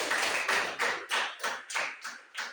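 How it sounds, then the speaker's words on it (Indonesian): A class of schoolchildren claps steadily in a moderate classroom, the applause swelling in rhythmic waves for a few seconds. "Ayo kita tepuk tangan."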